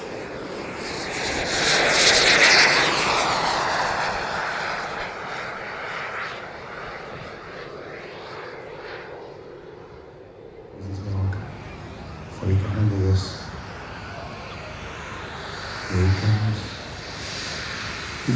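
A scale model jet aircraft roars past during flying at a model airshow. The loud engine rush fades as it moves away, then a public-address voice speaks in short bursts over the remaining hum.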